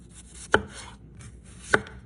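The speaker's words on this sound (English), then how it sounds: "Listen to that potato ASMR." Raw potato being sliced on a cutting board for homemade chips, two crisp, close knife chops about a second apart, loud and clean against a quiet background.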